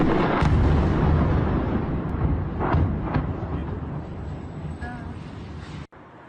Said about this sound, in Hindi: क्रेन से टकराने के बाद जोरदार धमाका होता है